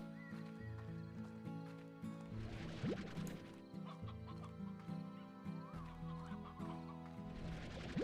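Chickens in the Slime Rancher video game cluck repeatedly in a grassy area, with overlapping bursts and squawks over a continuous background of layered tonal game music.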